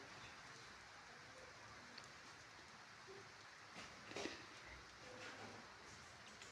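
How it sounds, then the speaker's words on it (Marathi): Heavy rain falling at night makes a steady, fairly faint wash of hiss and patter throughout, with no voices. "खूप मुसळधार पडतोय"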